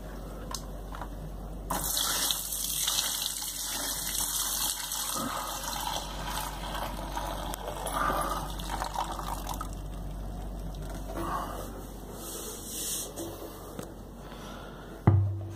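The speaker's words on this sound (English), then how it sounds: "try to pour the star sand in there." Star San sanitizer pours steadily into a homebrew container for several seconds, a continuous splashing gush with a faint clunk at the end.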